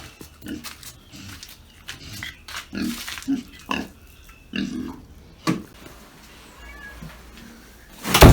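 A cat meows several times in short, low calls spaced irregularly among quieter animal noises, ending with a sudden loud thump.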